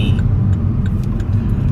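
A white and blue McLaren P1 supercar gives off a loud, steady low engine rumble up close. It holds an even note throughout, with a few faint clicks above it.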